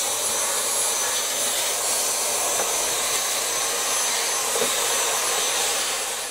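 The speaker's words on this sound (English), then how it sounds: "Don't tell the missus I got her vacuum." A household vacuum cleaner runs in a workshop, a steady loud high whine with a broad airy hiss that stays constant throughout without speech.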